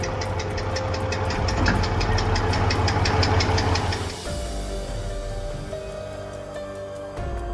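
A Soviet K700 tractor's engine, loud rhythmic knocking chug at a steady idle-like pace, then a sudden drop in level where a lower, smoother running tone continues to the end.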